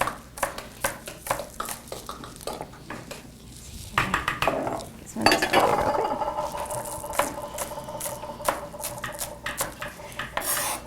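A knife dices green onions on a cutting board in quick, uneven rhythmic chops, clicking against the board at close range, with some kitchen clatter in between.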